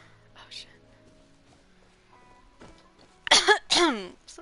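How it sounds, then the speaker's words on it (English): A person coughs twice in quick succession near the end, loud and close, after a stretch of faint rustling and low background noise. "I'm gonna mute myself so I can just like get these coughs out right away."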